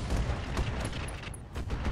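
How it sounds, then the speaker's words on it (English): A plasma cannon explosion in the mech game RogueTech hits as a dense, loud burst of crackling blasts and rumbling booms, sustained for a couple of seconds. "Plasma cannon explosion."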